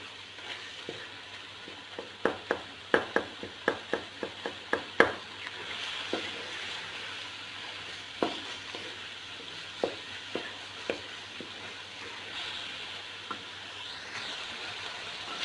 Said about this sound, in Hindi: और अब इसको बहुत ही अच्छे तरीके से भूनते हैं।